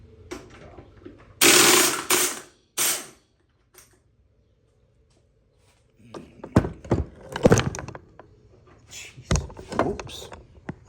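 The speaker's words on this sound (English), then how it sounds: "Get that flywheel bolt out of there, rather." Ratchet loosening the flywheel bolt on a 2019 Toro Recycler lawn mower: close, uneven clicking and metallic clacks arriving in short bursts, with a noisy clatter earlier and a quiet stretch in between.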